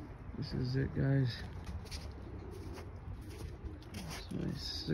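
Racing pigeons in a sick bird cage coo and shuffle close by, with soft rustling and a few low coos. Someone talks over them.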